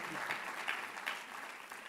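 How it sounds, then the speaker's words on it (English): Audience applause at a university convocation ceremony: a short burst of even, continuous clapping heard at a moderate distance. "Can we have a huge round of applause for me?"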